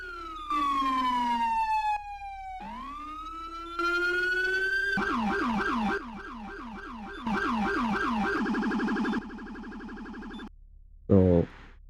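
A police car siren in the Roblox video game, loud and electronic, switching between long wailing sweeps and fast yelping warbles in several bursts, with short gaps of near silence between them.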